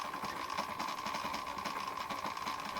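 A model locomotive motor runs forward on a decoder test bench, giving a steady, unbroken electric whine with a faint buzzing texture throughout, close and constant.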